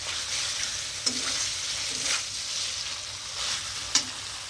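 Potatoes and spices are sautéed down in a pan with a constant close sizzle, broken by a few spatula scrapes and taps at irregular intervals.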